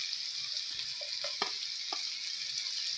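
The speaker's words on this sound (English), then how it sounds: "Okay, you have to stir for a while." Dried salted fish curry frying in a pan while being stirred, a soft steady sizzle with a few quiet scraping and clinking stir strokes in the middle.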